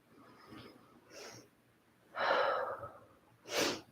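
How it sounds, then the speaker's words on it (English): Several audible breaths during a yoga session, slow cleansing inhales and exhales in uneven bursts, the last two longer and louder, close to the microphone with no talking. "Just taking a few cleansing breaths here."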